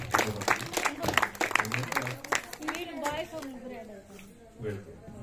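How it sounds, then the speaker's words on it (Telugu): An audience claps for a children's Christmas dance, with bursts of applause through the first half under someone speaking, then thinning out as his voice carries on. "చప్పట్లు కొడదాం, చప్పట్లు కొడదాం."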